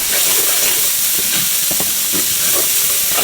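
Shallots and garlic fry in a pan with a loud, steady hiss and sizzle, with a few faint clicks from a utensil moving underneath.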